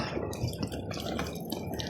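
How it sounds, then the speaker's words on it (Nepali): Mobile phones are being destroyed in a drum of water at a district police office compound, giving faint, close dripping and sloshing water sounds that continue steadily throughout. "यो ड्रममा पानी छ र मोबाइल भित्र राखेर नष्ट गरिरहेको अवस्था छ।"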